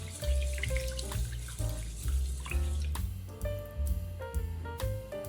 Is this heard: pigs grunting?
no